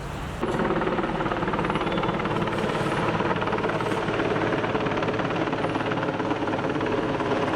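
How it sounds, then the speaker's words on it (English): A helicopter passes overhead in Albania, its loud, steady rotor drone starting abruptly and holding a constant roar throughout. "I just took a video of a helicopter flying over."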